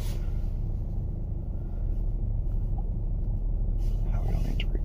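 Steady low engine and road rumble from inside a 2015 Nissan Pathfinder with the 3.5 L engine on a test drive, with someone talking over the continuous drone.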